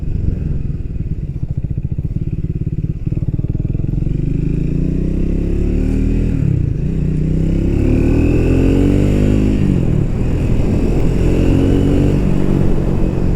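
A motorcycle engine, steady and loud throughout, with rising and falling pitch as it revs and shifts while riding, close and unbroken with no talk.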